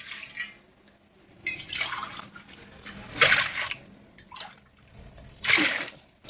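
Water is poured in several separate bursts for jowar flour papad dough, splashing and trickling at close range between quieter pauses.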